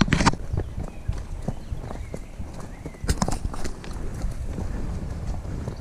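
Horse hooves clip-clopping on a trail ride at an equestrian centre, irregular thuds and scrapes on rough ground under rustling and outdoor noise, close and fairly loud.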